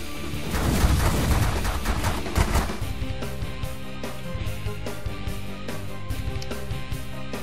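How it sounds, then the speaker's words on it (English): Minigun fire in The Last Federation video game, a dense rattling stream of rapid shots that is heaviest at first and then continues as a steady, evenly spaced pulse with a layered musical background. "I should be firing with the miniguns"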